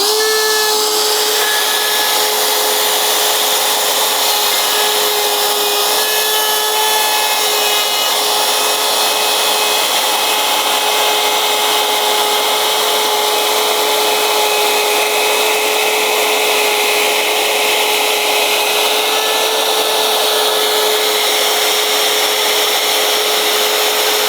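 A router cuts 5 mm deep slots in wood shelving, a loud, continuous high-pitched whine with a steady tonal hum and rough cutting hiss that runs unbroken for the whole stretch, with no voices.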